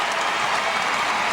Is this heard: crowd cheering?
yes